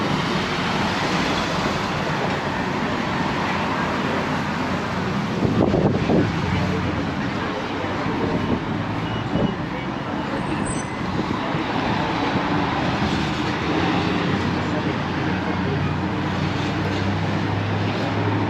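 Strong, gusty wind battering the microphone on a seaside town street in Palmanova, Mallorca, a constant loud roar with buffeting surges, and a voice talking faintly under it.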